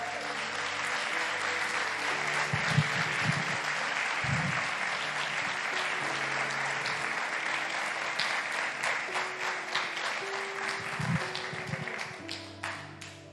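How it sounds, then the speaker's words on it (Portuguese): A congregation gives sustained applause during a Brazilian evangelical church service, a broad wash of clapping over a low keyboard or organ tone, with a few louder taps standing out before it fades near the end. "Dê um aplauso gostoso para Jesus."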